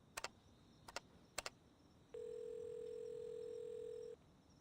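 A telephone tone from the video game Reverse 1999 sounds as one steady, clear tone lasting about two seconds, coming after a few short ticks, with no talking.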